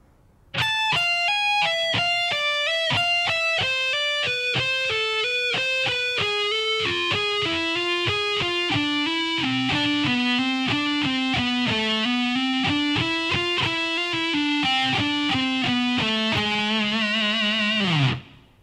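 Slow-tempo distorted electric guitar solo lick, a long steady stream of single notes descending then rising, loud and close with no talking, ending on a held note that fades quickly.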